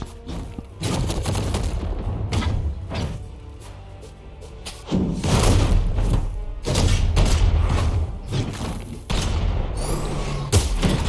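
Dense bursts of gunfire and heavy booming impacts from a Brawlhalla tournament match, loud and continuous with brief lulls between volleys.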